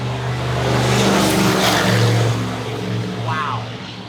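A race truck engine revs loudly as it passes close by outside a diesel shop, a strong sustained roar that swells and then fades as it moves away.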